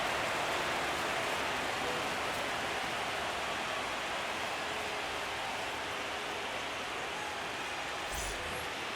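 Steady rain pours over a ballpark in MLB The Show 25, a constant dense hiss that holds evenly throughout with a faint thump near the end and no talk.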